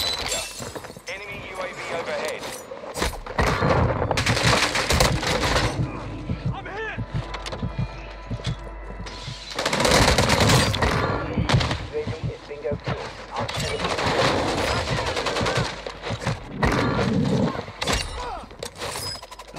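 Bursts of gunfire and shattering impacts crash through a firefight on Ashika Island in Warzone 2.0, coming in loud dense clusters and gaps while players talk excitedly over the game.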